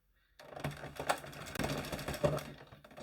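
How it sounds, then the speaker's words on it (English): A 46 or 48 pin circular knitting machine cranked by hand gives a rhythmic mechanical clatter of repeated clicks and rattles, close and moderately loud, continuing steadily after a brief quiet start. "I'm going to crank out another 8 rows so that I have 80 rows on the machine in total"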